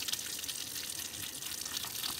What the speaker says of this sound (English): So take your time, rinse it out, low water pressure